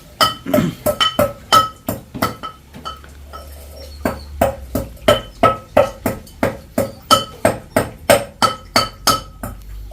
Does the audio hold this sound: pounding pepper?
yes